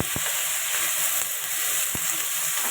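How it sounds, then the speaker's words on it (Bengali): Jackfruit and potato pieces sizzle steadily in hot oil in a pan, a close, continuous frying hiss broken by a few soft stirring clinks, with no voices. "আলুটা ভালো করে ভেজে নেব।"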